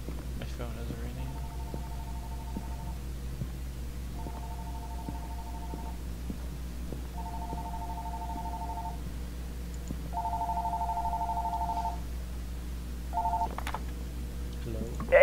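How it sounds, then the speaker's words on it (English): An in-game phone rings in the horror game Fears To Fathom: a steady electronic ringtone repeating in evenly spaced bursts, clear and prominent over a low constant hum, with faint voice sounds in the background. "My phone is ringing."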